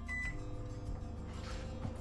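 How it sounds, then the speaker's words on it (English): A microwave oven powered by an off-grid solar setup with a Victron system and lithium batteries, running alongside an air conditioner, gives a steady low electrical hum with a faint brief tone near the start. "that's the microwave and the air conditioner at the same time"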